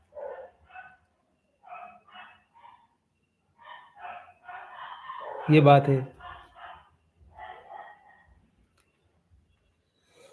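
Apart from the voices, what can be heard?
dogs barking outside at night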